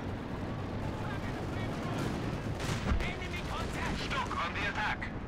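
Artillery barrage in the Company of Heroes 2 video game, a rolling roar of distant booms and gunfire building into a heavy thud midway, with scattered crackling shots and a voice talking over it.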